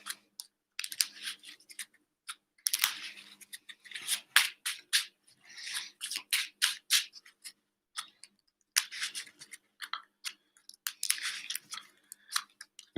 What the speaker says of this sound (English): All right, so we'll shuffle all this up.